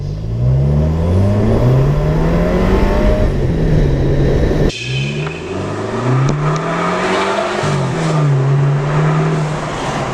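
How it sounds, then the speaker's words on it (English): A Volkswagen Golf MK7 1.8 TSI with a carbon fiber air intake revs loud and close, the pitch rising and falling through long pulls, with a whirring turbo whine over the roar. "it's just throttle response is way better, but mainly it's just turbo noise too"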